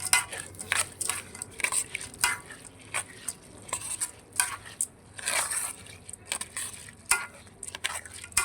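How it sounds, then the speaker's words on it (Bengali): Lentils and rice being stirred together in a cooking pot for khichuri, a steady series of scraping, grainy swishes and light clinks from the spoon, close and moderately quiet with no talking. "ডাউলগুলো আমি চাউলের সাথে আমি মিক্স করে নিচ্ছি।"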